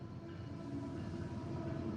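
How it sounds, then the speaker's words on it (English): A train rolls past outside a house, a steady, continuous low rumble with a mechanical drone that holds even and slightly grows over two seconds, with no voices. "That train moving."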